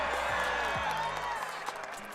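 An esports audience at a spring celebration grand finals cheers and shouts for Corn Canyon, a dense, steady crowd roar lasting a couple of seconds before easing slightly.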